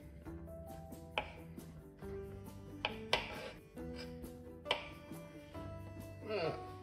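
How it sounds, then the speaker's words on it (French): Knife cutting mushrooms into quarters for a tender chicken recipe, a few distinct chopping knocks on a board spaced out over several seconds, heard beneath a steady background tone. "La première étape, on va couper nos champignons."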